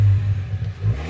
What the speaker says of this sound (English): this is how the exhaust note sounds. It has a nice bassy note with a hint of sporty aggression.